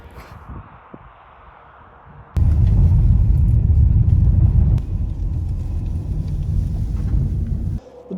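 A car drives through Iowa farmland, its interior filled with a loud steady road rumble and wind roar that swells suddenly after a quieter start and holds for several seconds.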